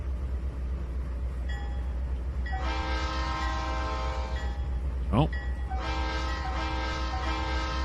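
Train whistle blasts in the Trainz 2019 railway simulator, a sustained harmonic horn sounding twice, loud over a steady engine rumble, with a brief exclamation from a voice.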